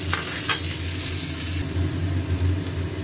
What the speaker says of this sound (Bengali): এবারে পেঁয়াজটা ভাজা।